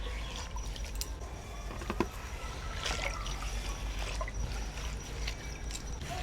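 Whole grass pea (khesari) leafy greens are washed in a basin of water, with a steady stream of splashing, dripping and trickling close by, with no talk.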